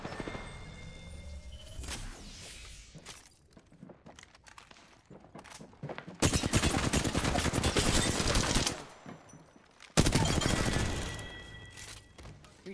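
Automatic gunfire in the battle royale shooter Apex Legends rattles out in two loud, dense bursts, the first lasting a few seconds and the second shorter, with quieter game effects and footsteps between them.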